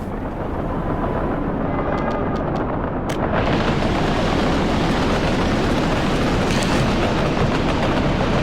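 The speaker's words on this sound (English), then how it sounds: "The train is heading back to the oil field to get more of the sauce that we sell for great profits." A train rolls steadily along its line in the Workers & Resources: Soviet Republic city-building game, a continuous dense rumble of rail noise that holds at a constant loudness with no talk over it.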